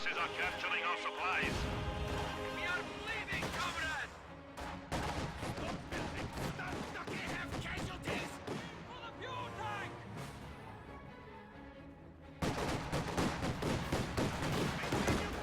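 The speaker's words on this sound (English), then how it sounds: "Oh, that PTRS volley." Anti-tank rifle volleys from PTRS guns mixed with heavy gunfire and explosions in a video game battle, loud and dense throughout, with a commentator talking over it.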